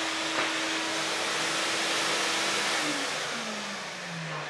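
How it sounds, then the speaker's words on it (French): A demonstration-model vacuum cleaner runs close and loud, a steady broadband whoosh with a motor whine that shifts slightly in pitch as it works. "ça reste un aspirateur, quoi. Et puis il est bruyant, oui."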